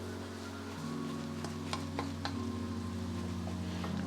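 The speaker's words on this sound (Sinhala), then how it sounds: "ඉතින් මේක හොඳට මේ යාන්තම් මද ගින්නෙන් මේ විදිහට අපි මේ කලවම් කරගෙන පොඩ්ඩක් මේක රත් කර ගන්නවා" Chillies stirred in oil over a low flame while making homemade chilli paste, giving a soft steady sizzle with occasional light clicks and scrapes of a spoon against the pan, close up and without talk.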